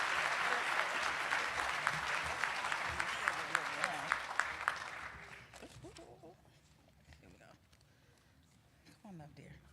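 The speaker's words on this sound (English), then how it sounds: "let's have a round of applause for our students in their second year" An audience claps for students at an awards ceremony, loud and dense at first, then thinning out after about five seconds as a few voices talk over the fading applause.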